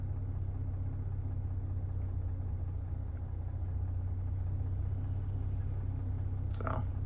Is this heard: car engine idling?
yes